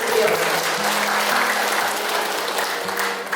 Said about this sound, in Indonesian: Bapak Ibu tepuk tangan dulu.